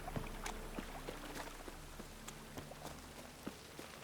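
Light rain in The Witcher 3 video game patters softly with scattered drips and taps, faint and irregular, over a quiet low hum.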